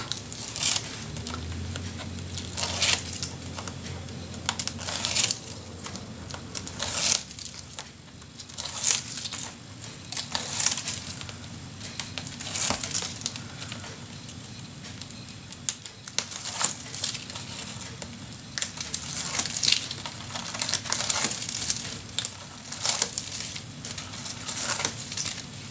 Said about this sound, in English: Well, peel it all off.